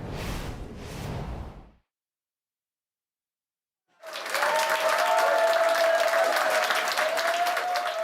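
A crowd applauds Prime Minister Keir Starmer at a political speech. A brief whooshing noise comes first, then a gap of silence, then loud, sustained clapping with a steady tone running underneath.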